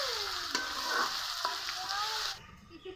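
Onion, garlic and ginger frying in a pan for a spiced chicken curry, a steady close sizzle broken by a few sharp stirring scrapes, stopping abruptly near the end.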